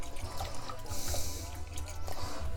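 Water is poured into a chicken katsu curry sauce in a kitchen, giving a faint, steady trickle and light splashing that runs for a couple of seconds.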